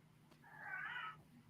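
A cat meows once, a soft drawn-out call rising and falling over about a second, faint and close to a microphone in a quiet room, with no talking over it.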